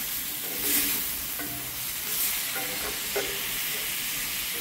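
Food sizzling and frying in a heavy pan set over an outdoor wood fire, with a few scraping stirs at intervals over a steady, close crackle.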